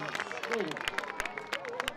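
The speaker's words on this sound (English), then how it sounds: "Give him a big round of applause" Rodeo crowd at the Wellington Pro Rodeo applauding a bull rider, steady clapping and cheering with sharp individual claps over a busy arena din, an announcer's voice faintly beneath.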